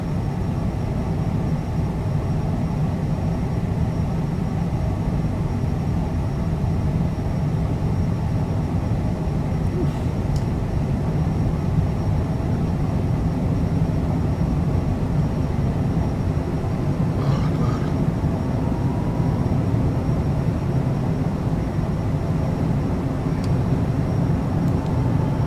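A Citation CJ4 business jet taking off in Microsoft Flight Simulator: a steady, loud engine roar that holds at an even level from start to finish, with no voices.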